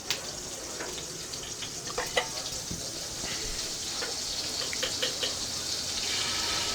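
Butter sizzling in hot oil in a pan while cooking Malvani-style whole masoor dal, a steady crackling hiss with scattered pops, close and moderately loud throughout.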